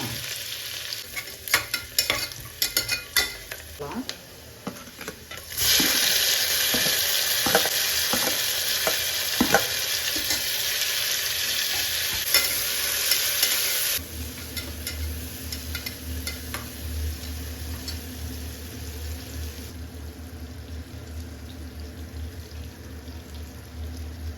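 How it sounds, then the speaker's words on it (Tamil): Onions sauté in a hot pan for biryani, a continuous sizzle with intermittent stirring scrapes and clinks, louder in the middle stretch before settling into a lower steady frying hiss. "ஆனியன் போட்டலாம் இது வதங்கிட்டு இருக்கிறதுல"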